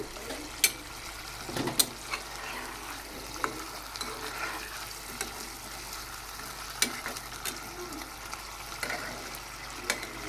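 Spice paste frying for a country chicken curry, a soft steady sizzle with scattered sharp clicks and scrapes of stirring close by.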